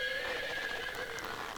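A horse whinnies in the quiz video game You Don't Know Jack, a single drawn-out, wavering neigh of moderate loudness with no talking over it.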